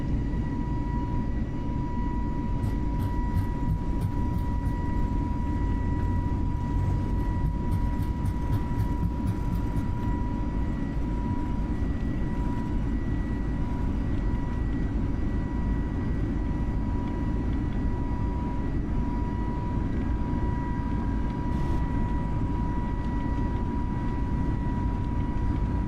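Airliner jet engines roar steadily at takeoff thrust in Microsoft Flight Simulator on departure from Riyadh, a loud continuous rumble with a faint whine and occasional clicking cockpit sounds.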